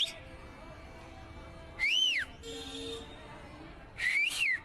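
A person whistles without using their hands, producing two short, shrill, bending whistles a couple of seconds apart. Each whistle is loud against a quiet room background.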